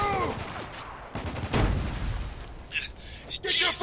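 Frag grenade blast and gunfire in the Spec Ops: The Line video game, a heavy boom mid-clip among scattered shots and bursts, with shouting voices over the fight.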